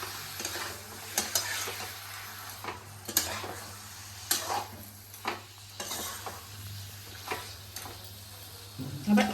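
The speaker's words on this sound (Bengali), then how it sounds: "এবার আমি মাংসটা দিয়ে দিচ্ছি।" Desi chicken pieces going into a hot pan with yogurt for a Bengali kosha curry, sizzling steadily while a spoon scrapes and stirs in irregular clinks against the pan, close and fairly quiet.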